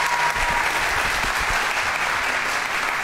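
An audience at a pantomime league game show applauds after a performance, steady dense clapping filling the room at close range for a few seconds.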